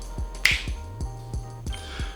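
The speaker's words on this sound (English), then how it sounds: "I'm gonna snap my fingers and let's see if this works." A single sharp finger snap cracks out near the start over a low, regularly pulsing electronic background tone with faint repeating clicks.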